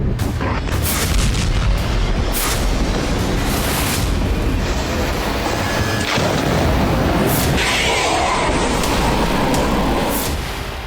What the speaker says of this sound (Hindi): आईडीएफ की बमबारी से लेबनान की धरती 3 दिनों से पूरी तरह से दहल रही है।